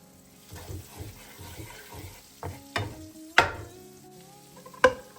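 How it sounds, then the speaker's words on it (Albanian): Potatoes and garlic in a frying pan are stirred with a soft, rhythmic scraping under a light sizzle, and a few sharper knocks and clinks from the utensil come near the end. "Të vazhdojmë t'i përziejmë për disa minuta."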